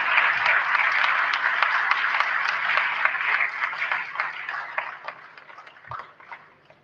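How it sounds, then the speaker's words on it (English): Audience applause after a speech on Nigeria, a dense broadband patter of many hands sustained for several seconds, with a few sharper individual claps, then thinning and fading toward the end. "Another round of applause."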